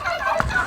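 A big three-year-old bronze turkey gobbles on a farm, one short burst of warbling calls heard nearby and fairly loud over faint background noise.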